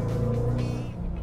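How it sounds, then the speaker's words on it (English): A deep, rumbling V8 engine in a Dodge Challenger drones steadily as the car drives, a low throaty growl with a slight rise in pitch. "How do you not love a car that drives like this?"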